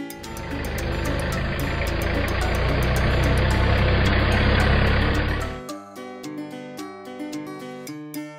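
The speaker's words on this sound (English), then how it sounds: "Parcel van." Parcel van engine idling with a steady low rumble for several seconds, then cutting out, leaving rhythmic light tapping sounds behind.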